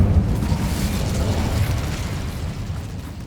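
An Incendio fire spell cast in Hogwarts Legacy, a loud, close, steady roaring whoosh of flame that fades slightly over a few seconds with no speech.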